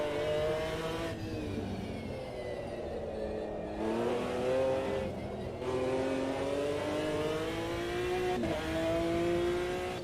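A race car in the sim racing game Automobilista 2 revs and brakes through a corner, the engine note rising and dropping repeatedly with shifts, steady and fairly loud with no talk.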